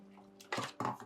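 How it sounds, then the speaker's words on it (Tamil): Two short splashy bursts of water poured into a rinsed mixer grinder jar, close and fairly loud, after a brief quiet hum. "மிக்சியை கழுவிட்டு நம்ம தண்ணி அதுக்குள்ளே ஊற்றிக்கலாம்"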